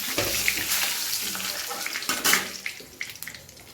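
Bay leaf and dried red chilli sizzle in hot oil, a steady broadband hiss with a few crackling bursts, close and fairly loud throughout, with no voices.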